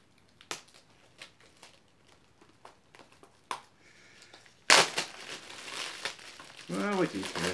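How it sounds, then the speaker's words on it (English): Plastic wrap from a Blu-ray combo pack crinkles and crumples loudly and continuously up close, following several sparse earlier crackles, with brief talk mixed in. "That plastic is just gonna throw in the trash. One of the noisiest things of unboxing."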